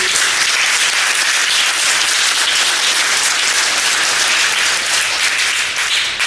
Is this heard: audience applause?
yes